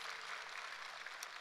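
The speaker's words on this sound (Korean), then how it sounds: "윤태중 집사님이 마음에 든다니까 박수 치시네요" A church congregation at a Sunday service claps in a brief, faint, even wash of applause, with no speech over it.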